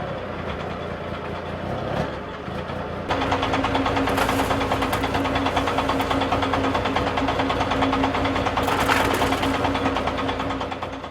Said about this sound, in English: the old TS3 engine's quite recognisable, as is that knock knock knock knock of the compressor pumping the air back